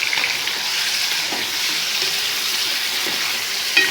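Chicken fries over high heat with cumin and bay leaf in a karahi, a dense continuous sizzle with faint stirring bumps and a brief scrape near the end.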